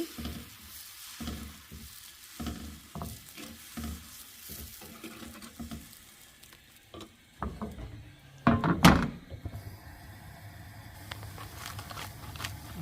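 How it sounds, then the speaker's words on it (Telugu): Dosa batter being spread across a hot pan: a series of soft scraping strokes with a faint background hiss, then a brief louder sizzle that settles back into a low crackle. "ఇది సేమ్ దోశ బ్యాటర్. పాన్ పైన స్ప్రెడ్ చేసుకొని"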